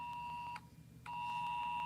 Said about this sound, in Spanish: Le sonó el aviso de la ONEMI también